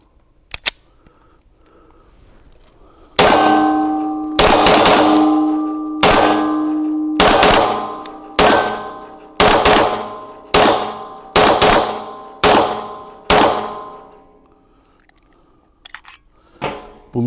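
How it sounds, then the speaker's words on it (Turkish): Sarsılmaz stainless-steel pistol fired at steel targets at the factory range, about ten sharp shots each followed by a ringing metallic clang, spaced roughly a second apart, loud and close with no talk. "Hemen bir de paslanmaz modeliyle atalım."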